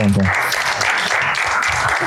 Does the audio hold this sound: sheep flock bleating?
no